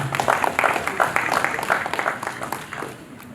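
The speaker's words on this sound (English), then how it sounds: "Please, can we clap? Can I round of applause for him as he steps forward?" Audience members clap at a youth conference in a hall, a brief spatter of applause from a modest crowd that is strongest at first and then thins out.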